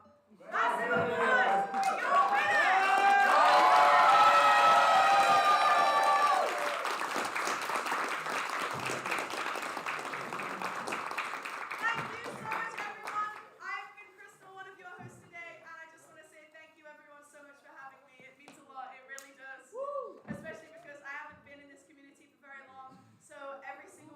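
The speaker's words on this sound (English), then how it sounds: "let's give one final massive applause" Loud audience applause and cheering at a Splatoon 3 grand finals LAN tournament swells to a roar with whoops over the first dozen seconds, then thins into scattered clapping as people talk.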